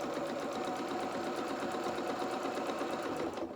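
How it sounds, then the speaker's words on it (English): A sewing machine stitches steadily through fabric to form a hem channel for elastic on a doll's bloomers, its fast even mechanical whir running continuously and close, pausing only at the very end. "We can't just sew through the middle because we need to thread our elastic through this channel that we're making."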